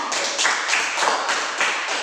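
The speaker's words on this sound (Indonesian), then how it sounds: "Tepuk tangan buat teman kalian." Children in a classroom clap for a classmate, quick sharp claps from a small group repeating in an even, close, loud patter.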